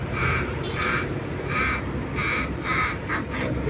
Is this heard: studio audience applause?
no